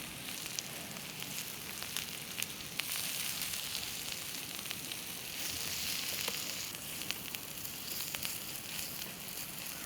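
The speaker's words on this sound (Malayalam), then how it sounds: "അപ്പോൾ അതാ നമ്മൾ മീൻ വറുക്കൽ ഇവിടെ കഴിഞ്ഞിട്ടുണ്ട്." Fish coated in spicy masala frying in a pan gives a steady, dense sizzle with fine crackles and pops throughout, close and fairly loud, with no talking.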